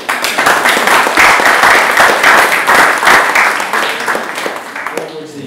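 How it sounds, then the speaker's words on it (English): Loud audience applause welcoming the next speaker at a design talk, swelling in waves of clapping before fading out abruptly at the end. "I'd like to give a big round of applause to our next speaker."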